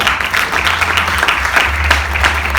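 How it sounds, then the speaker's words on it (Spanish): Church congregation applauding during a Spanish-language sermon, loud sustained clapping from many people in a large room with a low hum underneath, continuous throughout. "Dale un aplauso."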